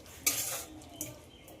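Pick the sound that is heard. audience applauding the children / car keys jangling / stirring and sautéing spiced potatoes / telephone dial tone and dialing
stirring and sautéing spiced potatoes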